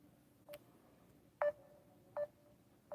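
Four short telephone keypad tones beep at irregular intervals while a number is dialed on a phone, quiet and isolated with no one speaking.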